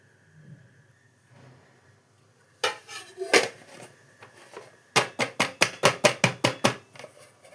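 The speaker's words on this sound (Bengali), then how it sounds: "এবার এই ঢোকলাটাকে সাইড দিয়ে কেটে থালাটার মধ্যে রেখে দেবো।" A knife cuts around the side of steamed dhokla and lifts it onto a metal plate, giving a few clinks, then a quick run of about ten sharp, evenly spaced taps and clacks against the dish. The sounds are close and there is no talk.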